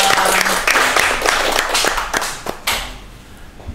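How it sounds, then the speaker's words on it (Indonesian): A small group in a podcast studio in Maluku claps, a handful of close, sharp hand claps with uneven rhythm that die out after about three seconds. "Tepuk tangan dulu dong."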